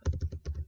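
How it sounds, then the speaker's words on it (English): Rapid keystrokes on a computer keyboard while entering an email address into a browser's address bar, a quick burst of about six close, crisp clicks with no talking. "you're going to type"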